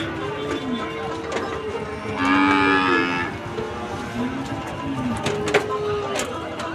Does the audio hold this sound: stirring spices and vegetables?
no